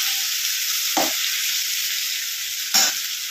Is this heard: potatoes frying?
yes